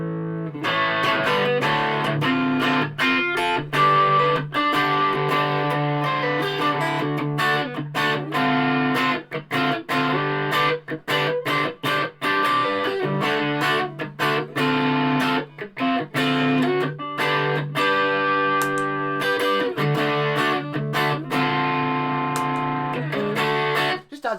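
Electric guitar played through a JOYO British Sound distortion pedal, stacked with the amp's own distortion, giving a loud, continuous overdriven tone with sustained chords and rhythmic chopped strums throughout, no talking.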